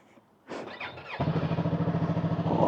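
A brand-new 2026 Yamaha R3 motorcycle engine starts after a short cranking burst, then settles into a steady, close, pulsing idle with a slight rise at the end.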